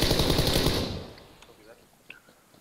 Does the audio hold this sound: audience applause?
no